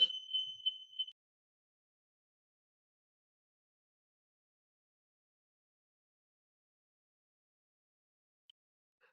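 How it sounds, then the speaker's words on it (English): A short burst of rapid, high-pitched electronic beeping sounds for about a second, then cuts off into near silence. "there was an alarm in my house, but there was nothing happening"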